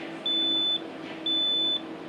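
A smoke detector chirps two sustained high electronic beeps, evenly spaced about a second apart, clear and prominent over a faint background hum.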